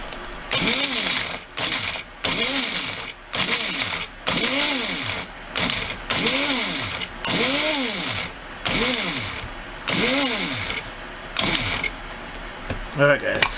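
An electric grinder whirs in repeated short pulses on roasted okra seeds, each burst rising and falling in pitch with brief silences between, close and loud, with a voice briefly at the end.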